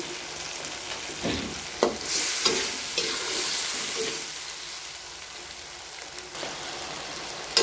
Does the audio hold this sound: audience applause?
no